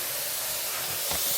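Spray gun laying clear coat on a car panel, a continuous loud airy hiss that holds steady throughout with a slight surge near the end.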